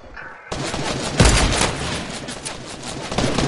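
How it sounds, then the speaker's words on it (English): Sniper fire and a burst of gunshots ring out in a PS4 shooter game, loud and dense, with rapid overlapping reports that keep going after an abrupt start. "Let me watch Pablo getting sniped in the booty"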